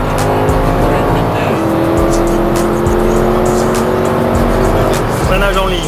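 A Mercedes-AMG race car of 612 hp accelerates hard on a track, its loud engine a steady, dense roar with rising and shifting tones throughout, heard from inside the car with no talk audible.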